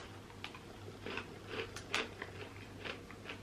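Crunchy vegan birthday cake cookies are bitten and chewed close to the ear, a quiet run of irregular crisp crunches over a low steady hum.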